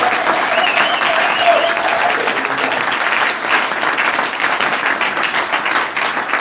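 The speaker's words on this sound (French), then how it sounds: "acclamez-le encore une fois" A church congregation applauds and cheers loudly, dense sustained clapping filling the space with voices rising above it, steady for several seconds before thinning slightly toward the end.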